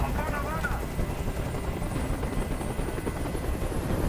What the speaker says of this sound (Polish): Każ swoim odwołać helikopter.